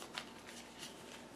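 A brief riffle of playing cards being shuffled, a soft papery burst close by, heard alone.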